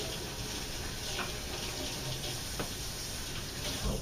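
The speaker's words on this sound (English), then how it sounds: "let me rinse my hands quickly" Tap water runs steadily into a sink while hands are rinsed in a home kitchen, a quiet continuous splashing hiss with small splashes.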